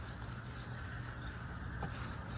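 Shine detailing product sprayed into a car engine bay, a steady broadband hiss running continuously at moderate level with faint rhythmic pulses of trigger pumping.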